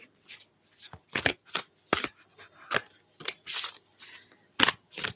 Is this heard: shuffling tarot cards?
yes